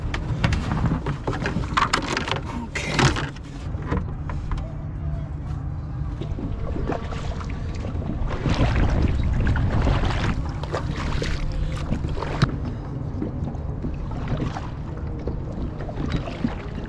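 A boat crosses water on a commute, with continuous low engine and hull rumble, splashing, and gusts of wind buffeting the microphone.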